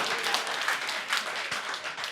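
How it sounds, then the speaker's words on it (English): A comedy show audience at the Edinburgh Fringe claps in a brief, lively burst of applause from a crowd of many hands. "Give a round of applause."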